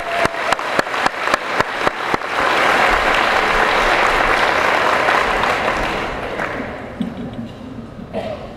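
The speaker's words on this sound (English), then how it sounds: "May we have another round of applause for all our new employees?" Round of applause for new school district employees at a convocation: a few sharp separate claps first, then the whole audience joins in a dense sustained ovation that fades out near the end.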